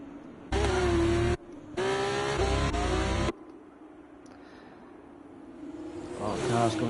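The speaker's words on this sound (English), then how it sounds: "Cars coming through sector 1." Race cars in a sim racing league event at Qatar sweep past with a loud, whining engine drone in two close bursts, then fade to a quieter background hum with commentary running over it.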